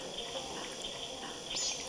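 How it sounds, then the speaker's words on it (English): Steady rushing water pouring through pipes and turning a water wheel in Zelda: Majora's Mask 3D, a continuous close hiss with a brief splashy swell near the end. "Looks like it's turning because of the sheer force of the water coming through the pipes!"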